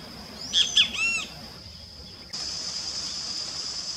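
A bird high in a tree on a forest trail sings a short series of whistled, warbling notes near the start, then falls silent against a constant high hiss of insects or water.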